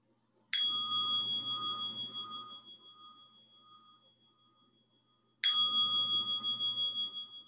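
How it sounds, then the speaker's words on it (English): A meditation bell rings twice, each a bright, clear strike whose sustained tone slowly fades, with the second ring about five seconds after the first in a quiet room. "I'll be inviting three sounds of the bell"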